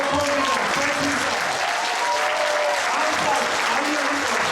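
Steady, dense applause from a concert audience at a Stockholm solo concert by the emigrant choreographic ensemble Shoshia, filling the whole stretch with even, continuous clapping at one level.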